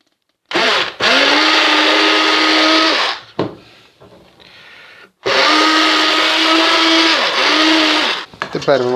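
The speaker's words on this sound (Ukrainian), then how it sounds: "І допомагаємо собі чудо інструментом, який називається блендер." Kitchen blender mixing honey gingerbread dough with spices, butter and sugar, two loud close bursts of whirring motor with a short pause between and the pitch sagging under load; a voice is faintly heard in the pause.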